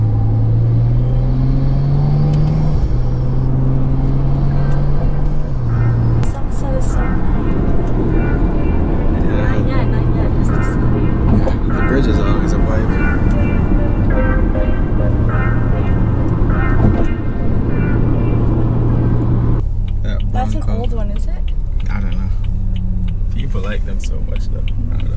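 Stage 2 tuned BMW engine revving while driving, rising and falling in pitch as gears change, a loud close rumble throughout with people talking over it.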